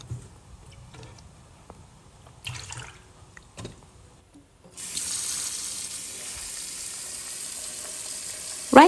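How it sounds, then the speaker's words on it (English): Potatoes are washed in clean water at a kitchen sink: a few soft knocks and splashes first, then a tap gushes in a steady, fairly loud stream, ending with a sharp clatter. "Then I washed my potatoes in a very clean water."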